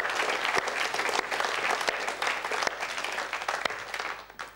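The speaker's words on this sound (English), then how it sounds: "Could we give him another round of applause, please?" Audience at a public forum applauding, a dense, fairly close burst of clapping with sharp individual claps standing out, tapering off over a few seconds.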